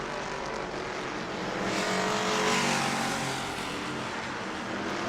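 Super Stock race cars roar around the New Smyrna oval, a loud, continuous engine drone that swells to a peak midway as the pack sweeps past, then steadies again, with no voices.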